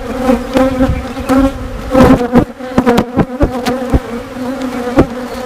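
Honeybees buzz loudly and close around an open hive during frame work in a backyard apiary, individual bees droning past with rising and falling pitch over a steady hum, no talking.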